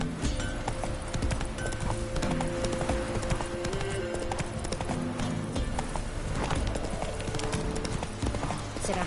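Galloping hoofbeats from Roach, the horse in The Witcher 3, pound in a fast steady rhythm throughout, loud and near, layered over game music and ambience.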